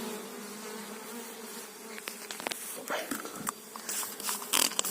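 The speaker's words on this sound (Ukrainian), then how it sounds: "тільки що прилетів рій. До мене на пасіку" A small honeybee swarm arrives at an apiary, a steady close buzzing of many insects with scattered louder passes of individual bees near the microphone, no talk.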